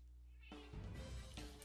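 A house cat meows close by, one drawn-out, whiny call rising over a low background hum.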